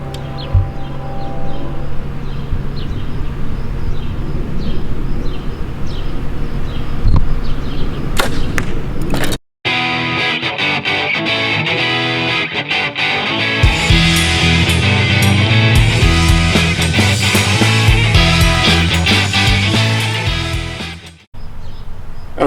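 Arrows are loosed from a bow at a 30-yard target during a scoring round, giving sharp releases and whooshing flights over a steady hiss of outdoor background noise, with one brief silent gap.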